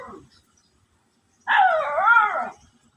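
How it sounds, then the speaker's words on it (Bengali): A single dog gives a drawn-out, wavering whine or howl lasting about a second, clear and fairly close, after a brief faint sound and quiet. "কত কুকুরগুলো দেখেন"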